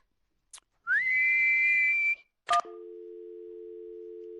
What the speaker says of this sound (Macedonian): Тоа е кога ги спојуваш усните и дуваш